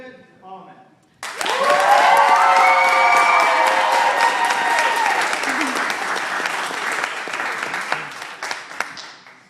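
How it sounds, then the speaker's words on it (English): A crowd votes by applause for a cough-off contestant, with loud clapping and cheering that bursts in after a moment of talk, stays strong, then gradually thins. "And by your applause, we want to find out from the crowd who we think is the winner."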